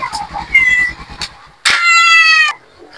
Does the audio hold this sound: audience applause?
no